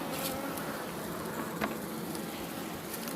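Honeybees shaken off a comb frame during a hive inspection give a soft, continuous buzzing hum, fairly faint and close, with a few small bumps.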